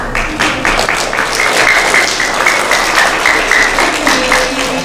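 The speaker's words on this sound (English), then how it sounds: "Can we give them a hand of applause?" An audience at a disability awareness puppet show applauds steadily after a fireworks segment, a dense, even wash of clapping that stays loud from start to finish with no talk over it.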